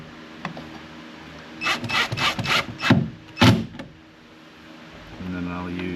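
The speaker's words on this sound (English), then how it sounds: "So now I'm going to screw this bracket down." Screws being driven to fasten a speaker bracket inside the door of a 2017 Nissan Armada, heard as a close burst of scraping, rubbing bursts lasting a couple of seconds, with someone talking quietly around it.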